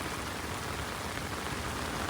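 Heavy rain pours down in Dubai as a dense, unbroken hiss of water striking surfaces, loud and close, with no voices.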